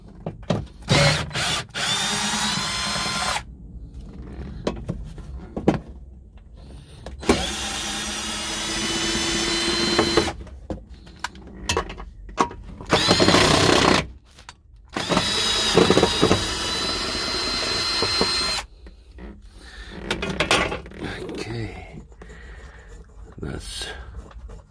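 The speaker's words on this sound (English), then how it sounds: "I'm going to remove these 3 screws here as well." A power drill backs out screws inside a Mercedes Sprinter van, sounding in several loud, close bursts of whirring between pauses, with someone talking in the gaps.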